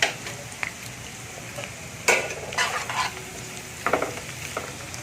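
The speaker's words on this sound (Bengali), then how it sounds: "এখানে আমার পেঁয়াজগুলো ভাজা হচ্ছে" Chopped onions frying in hot oil with a bay leaf in a pan while a chicken and potato curry is cooked, giving a steady soft sizzle broken by a few sharp stirring scrapes and clinks.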